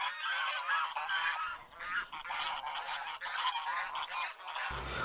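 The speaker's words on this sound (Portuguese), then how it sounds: "Som do ganso." A goose honks repeatedly in loud, close, overlapping calls that run continuously with no pauses or voices.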